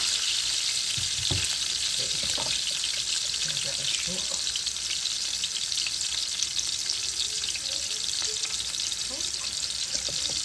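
Onions or other ingredients frying and starting to caramelize in a pot, a steady broadband sizzle throughout with occasional stirring knocks and scrapes, close and continuous.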